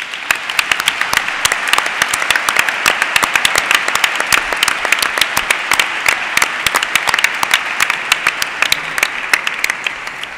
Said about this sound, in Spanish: yo creo que se merece un gran aplauso,